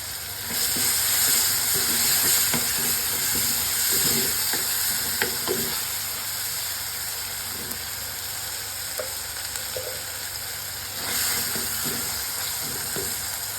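Tomato and mango cooking in a covered pan, a steady soft sizzle and bubbling hiss running throughout with occasional light clicks, close and moderately quiet, no voices.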